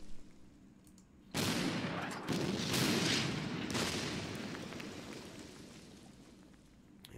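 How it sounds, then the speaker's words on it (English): Artillery fire in the WWII strategy game Order of Battle: Panzerkrieg: a sudden loud barrage of booming blasts begins after a quiet start, then rumbles and slowly fades. "Let's go ahead and fire some artillery here."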